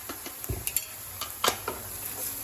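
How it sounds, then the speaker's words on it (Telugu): Fresh ginger, about two spoonfuls, frying in a pan for a prawn curry made with 2 kg of prawns, with a quiet sizzle under a few light scrapes and clinks of a spoon stirring. "ఇప్పుడు దీని మీద పచ్చి వాసన పోయేంత వరకు ఫ్రై చేసుకోవాలి."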